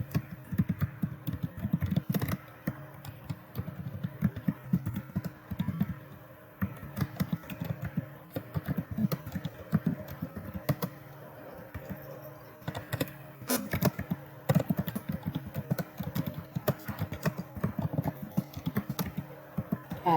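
Keystrokes on a computer keyboard as a response is typed into a box in a classroom app, a steady run of soft, irregular clicks lasting throughout without any talk.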